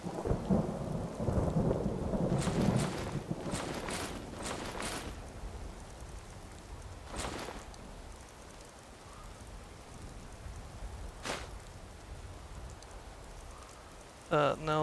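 Steady rain falls in the game Skyrim, with rolling thunder and several sharp cracks breaking through the constant hiss. A voice speaks briefly at times.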